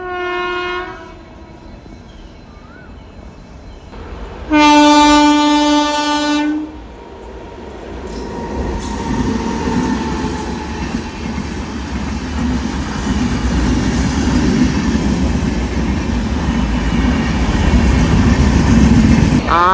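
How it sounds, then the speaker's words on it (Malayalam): Alappuzha-Dhanbad Express on the Ernakulam–Thrissur line in Kerala: a faint horn first, then a loud, sustained two-tone horn blast close by, followed by the long, swelling rumble and rattle of the train passing. No voices. "ആലപ്പുഴ ധൻബാദ് എക്സ്പ്രസ് ആണ് പോകുന്നത്."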